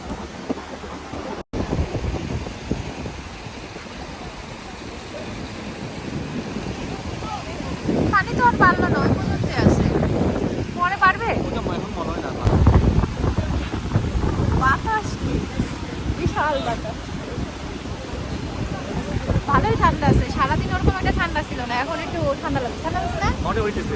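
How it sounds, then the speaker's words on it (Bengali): Sea waves at Saint Martin's Island roar under gusting wind that buffets the microphone, a loud continuous wash rising and falling while people talk close by. "সাগরের পানির শব্দ এত জোরে শোনা যাইতেছে"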